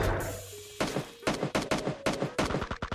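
Rapid automatic gunfire in PUBG Mobile zombie mode: a fast, steady string of close, loud shots that begins abruptly and continues with barely a pause, with no talking over it.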